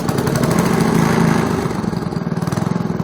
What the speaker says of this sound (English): He's going to start up this EY13 Robin-Subaru that ceased production in 1979.